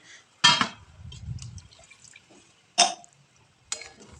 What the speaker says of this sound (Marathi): हवं तेवढं आपल्याला पाणी त्यामध्ये ॲड करून घ्यायचं आहे